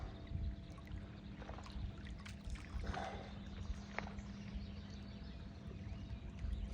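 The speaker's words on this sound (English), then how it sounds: "I hear boats coming from every direction." Faint boat sounds carry over open water while striped bass fishing, a low steady engine drone mixed with water trickling and splashing near the hull and a few brief distant chirps, with no talk.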